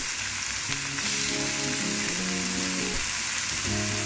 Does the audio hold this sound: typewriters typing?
no